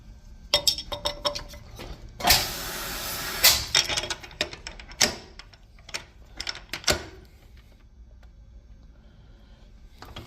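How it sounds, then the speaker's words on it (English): A 3-angle valve seat cutter works the seats of Chevy 350 cylinder heads, giving sharp metallic clinks, scrapes and ticks in irregular bursts with a longer grinding scrape near the start, fairly quiet overall. "now we're going to be cutting the seats."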